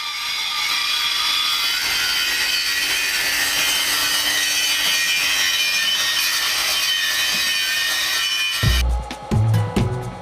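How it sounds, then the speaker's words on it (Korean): Steady abrasive grinding as a grinder smooths the edge of a generator stator contact surface flat, a continuous harsh hiss for several seconds, then abruptly cut off by clattering, knocking metal sounds. "그라인더로 미세하게 깎아 요철을 없앤다"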